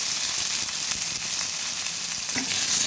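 Potatoes frying in hot oil with salt and turmeric, a steady close sizzle and hiss with faint stirring scrapes, no talking.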